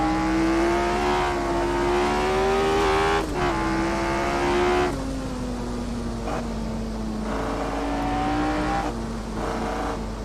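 Formula 1 car racing the Nürburgring Nordschleife in the Assetto Corsa sim, its engine screaming at high pitch and loud throughout, rising and dropping through gear changes with brief lifts off the throttle.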